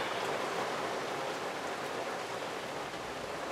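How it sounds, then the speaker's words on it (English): Steady rain falling outdoors during a home workshop build of a co-axial indicator, a dense even hiss filling the whole stretch with no voices. "Sorry about the rain."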